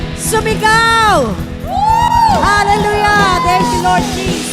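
A church congregation shouts and cheers together during a worship service, with many voices swelling into loud, sustained whoops and rising calls that fill the room throughout.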